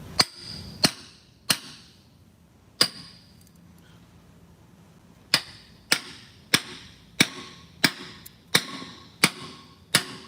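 Hammer tapping a seal into place, a series of sharp metallic knocks, a few spaced strikes followed by a steady run of evenly timed taps, close and clear with no talking.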